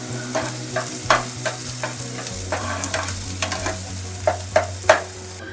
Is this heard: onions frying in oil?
yes